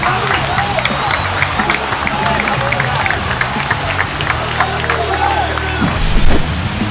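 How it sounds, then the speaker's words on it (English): Home stadium crowd in a baseball video game roars and applauds after a home run, a steady, dense wash of cheering and clapping with a commentator's voice over it and a brief swell near the end. "They just sparked this home crowd in a big way."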